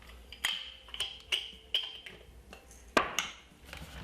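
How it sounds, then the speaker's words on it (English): Black ground pepper cracked from a grinder into a cup, giving a series of sharp, regular ticking clicks about every half second, close and fairly quiet, with one louder crunch near the end. "I'm going to crack a little bit of pepper inside of the water, inside of my cup."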